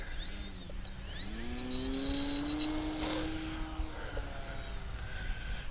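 A small RC Mini Apprentice model airplane throttling up for takeoff from a Geotex runway, its electric motor whine rising and sliding in pitch as it accelerates, steady and fairly close with no talking.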